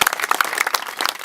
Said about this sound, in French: Donc ça, c'est un applaudissement pour vous